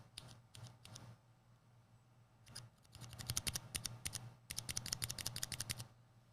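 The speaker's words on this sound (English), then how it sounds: "So here's a cherry brown." Typing on a mechanical keyboard with Cherry Brown switches: close, crisp clacking keystrokes, sparse at first, then quicker rhythmic bursts, on their own with no voices.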